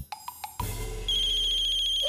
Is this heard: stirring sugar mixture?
no